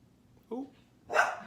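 Two dogs scuffle playfully: a short bark, a pause, then a louder, sharper bark or yelp, close and brief.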